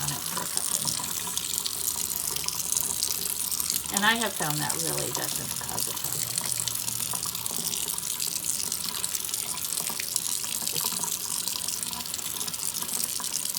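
Tap water runs steadily into a sink while cyanotype prints are rinsed, a continuous broadband splashing wash that persists throughout, with a person talking over it.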